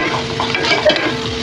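Onion fries in a pan until reddish for a spinach bhaji, giving a close, steady sizzle with soft scraping as it is stirred.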